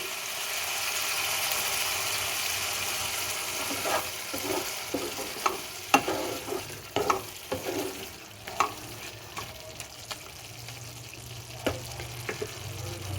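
Small tengra fish curry being stirred in a pan: a soft sizzle underlies the first seconds, then a spoon scrapes and clacks repeatedly against the metal in uneven strokes, close and moderately loud, with no talking.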